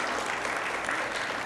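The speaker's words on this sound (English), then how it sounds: "I'll wait for your applause" Brief burst of audience applause at an 8th grade awards ceremony, many hands clapping steadily and fairly loud, filling the whole short moment without talk.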